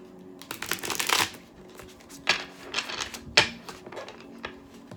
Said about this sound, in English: I'm going to shuffle a couple times